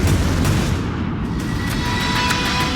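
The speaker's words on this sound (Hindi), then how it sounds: "और फिर नोवरोसिस्क अड्डे पर होता है बड़ा धमाका।" A loud, rumbling explosion at the Russian navy's Novorossiysk submarine base on the Black Sea, heard as a dense, sustained roar that fills the short clip without any voice over it.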